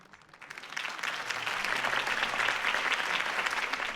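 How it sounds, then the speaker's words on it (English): Applause from a crowd at a campaign speech in Batman: The Telltale Series swells in after a quiet start and holds as steady, moderately distant clapping to the end. "If only Mr. Wayne, my campaign's largest backer, could have heard that applause"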